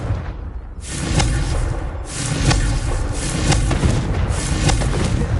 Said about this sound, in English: hope you're faring well with the blasting curse. It's still one of my favourites. Confringo!